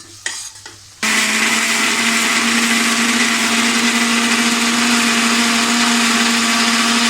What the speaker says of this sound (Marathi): मिक्सरला वाटण लावताना त्याच्यात पाण्याचा वापर करायचाच नाही आहे।